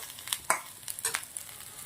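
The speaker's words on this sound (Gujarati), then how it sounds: "તો હવે આપણે અંદર ભીંડા સમારેલા છે એ નાખી દેવાના છે." Chopped okra dropped into a pan of frying onion, giving soft sizzles and a few sharp stirring clicks and scrapes, fairly quiet and close, with no talk.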